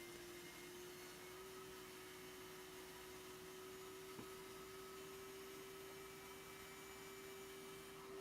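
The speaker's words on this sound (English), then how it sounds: "Clearing that out and getting ready to vacuum up the rest." A shop vacuum runs in a workshop during cleanup, giving a steady, unbroken motor drone with a constant whine that lasts the whole stretch and has only a faint bump partway through.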